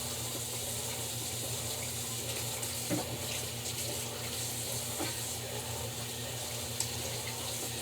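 Hot water running steadily from a kitchen tap for making homemade laundry detergent, a constant close hiss and splash with faint clinks now and then.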